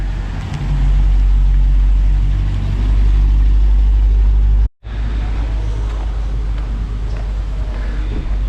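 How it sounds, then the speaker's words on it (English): A car rolls into a repair shop to be put on a lift, its engine running steadily at low speed with a continuous mid-range hum, briefly cut off before resuming. "they're about to pull the car into the shop"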